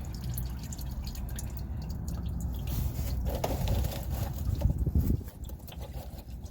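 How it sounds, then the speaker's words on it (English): Engine oil drains from a 2018 Ford Transit XLT 350 into an oil drainer, a continuous close trickling and dripping of liquid that eases off near the end. "Put the oil drainer underneath and just drain it slowly."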